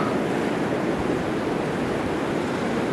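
Surf rolling onto a long, pristine tropical beach in Australia's Top End, a steady broadband roar of waves with some wind, and no voices.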